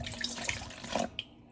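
Water from a tap runs into a measuring cup for home baking, a short close splashing stream with small bright spurts and a brief drip near the end.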